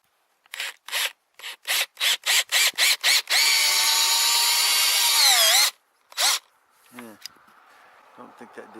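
A power drill drives sheet metal screws into a mailbox: short trigger bursts, then a long whining run that dies off, one more burst, and a falling screech, loud and close.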